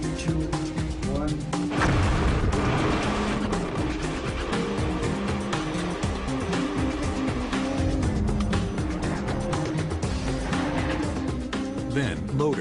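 Blasting at an open-pit iron mine sets off a loud, sustained rumble as magnetite ore is broken apart, a dense roar of explosion and falling rock that fills the whole stretch with little letup.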